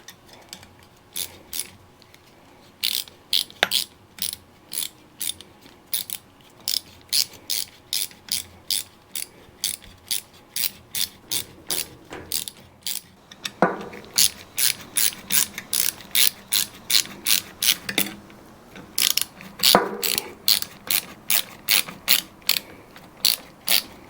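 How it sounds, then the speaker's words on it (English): A ratchet tightens the bands on a 35-gallon Vevor fuel filter, giving rapid, loud mechanical clicking in steady bursts with short pauses and heavier strokes near the middle and end, with no voices. "now I can tighten down these bands"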